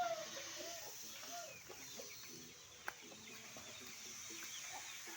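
Week-old Basilan and Chinese chicks and chickens clucking softly at a distance, with scattered peeps and calls over a steady outdoor background, no talking.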